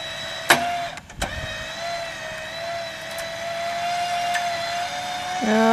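A tow strap under tension, hooked to a tree, gives a sustained metallic twanging hum that holds steady under a vehicle engine drone, with a couple of sharp clunks early on.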